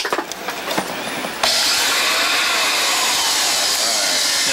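A repaired vacuum cleaner switches on partway through and runs with a loud, steady broadband whir, after some bench clatter in the opening second.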